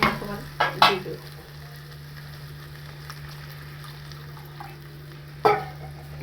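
Assamese fish egg curry sizzling gently in a pan after a little water is added, with a low steady simmer and a few sharp clinks and splashes of utensils near the start and again near the end.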